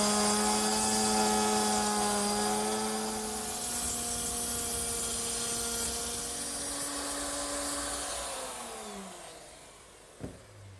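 A handheld router cuts a rabbet into the back edge of a bathroom cupboard top along a guide fence, a loud close motor whine that holds steady, then drops in pitch as it spins down, ending with a brief clunk.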